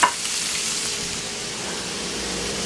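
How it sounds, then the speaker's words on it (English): Bacon frying in a pan, a steady close crackling sizzle that starts with a sharp pop and keeps up evenly, no talking. "he's frying bacon right now"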